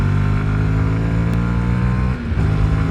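A Honda CB125R motorcycle engine pulls hard under acceleration, a loud, close, steady drone with a smooth rising pitch and a short dip partway through, with no voices.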